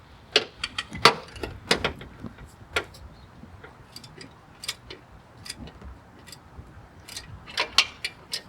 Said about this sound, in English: now what we're going to do is we're going to tighten it up as best as possible